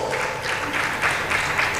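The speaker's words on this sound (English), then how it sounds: "Please, a round of applause." Audience applause at a Nigeria International Maritime Summit, a steady wash of many hands clapping in a hall with no talk, holding an even level throughout.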